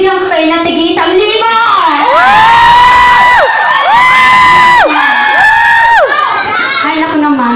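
A party crowd at a glamorous evening event in Makati screams, whoops and cheers loudly, with shrill rising shrieks in repeated waves and overlapping voices.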